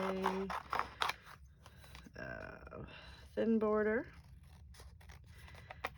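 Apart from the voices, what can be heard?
scissors hand-trimming paper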